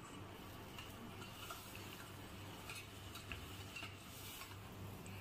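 Tomato chutney mixture for momo sauce, with red chilli powder, is stirred in a pan, giving a steady close scraping and soft sizzling texture with no voices.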